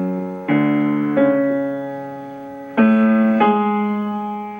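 Sustained instrumental chords of twelve-tone serialist music change abruptly every second or so, dissonant tones entering together and fading slowly, with no clear melody.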